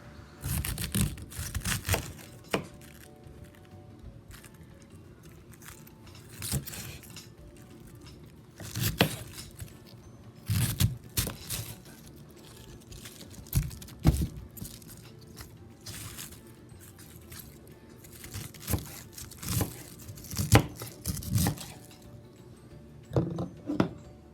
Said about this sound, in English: And then I began chopping the cabbage in as small pieces as possible.